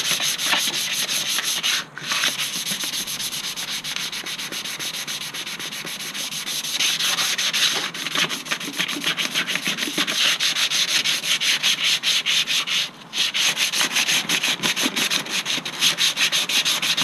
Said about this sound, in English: let's get this finished sanding up and get all this leftover seam sealer off